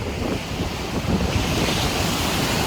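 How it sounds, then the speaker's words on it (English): Strong wind and breaking surf on a warm Florida Panhandle beach on the Forgotten Coast, with steady loud rushing and wind buffeting the microphone and no voices. "Today's a pretty warm day. I think it's like 70 degrees, but it's really windy today."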